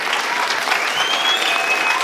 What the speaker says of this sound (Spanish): que de verdad un aplauso para Manuel.